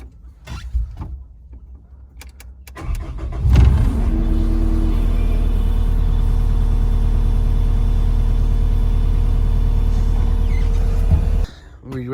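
A Cat 259D compact track loader's diesel engine cranks and catches, then settles into a loud, steady idle while warming up before cutting off near the end, with a few quiet knocks before startup.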